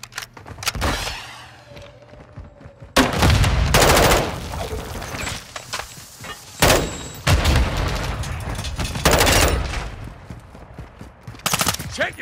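Bursts of automatic gunfire in Call of Duty: Modern Warfare II, loud volleys separated by short quieter gaps across the stretch, with battlefield clutter underneath.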